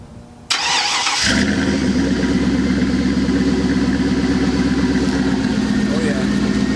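A Chevy Silverado pickup, which has a snapped cab mount, cranks with the starter and the engine catches, then settles into a loud, steady, close idle.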